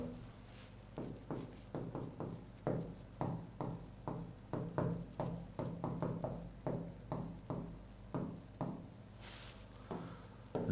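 Marker or chalk writing on a board during a geometry lesson on rhombus diagonals, heard as a long run of short, close scratchy strokes in uneven rhythm, with no talk over it.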